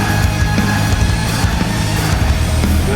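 A lead guitar builds a dense, sustained atmospheric wash of sound inside a full band mix, loud and continuous throughout.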